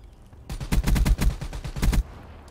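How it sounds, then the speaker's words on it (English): Shotgun blasts in Call of Duty Black Ops 3 on the Nuketown map, a loud close burst of about a dozen rapid booming shots over one and a half seconds, then a sudden stop. "I'm using a shotgun"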